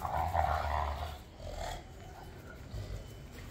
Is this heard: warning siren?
no